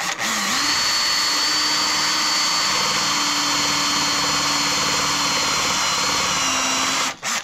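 A power drill fitted with a masonry bit bores through ceramic wall tile, giving a loud, close, steady whine that runs unbroken for about seven seconds before cutting out, with no talking.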